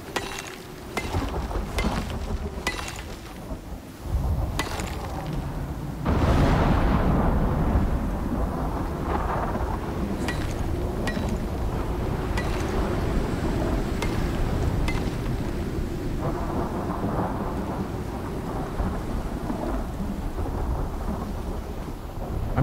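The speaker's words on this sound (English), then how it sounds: "no, storm's still going" A thunderstorm in the survival video game Icarus: heavy rolling thunder with loud cracks over steady pouring rain, continuous and dense throughout with no talking.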